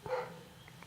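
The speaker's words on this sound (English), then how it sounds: "I can hear those dogs barking in the background" Neighbors' dogs bark in the distance: one faint, muffled bark, then a couple of weaker yips under a quiet indoor background.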